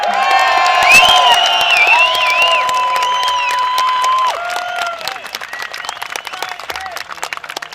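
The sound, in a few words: crowd applause and cheering at outdoor protest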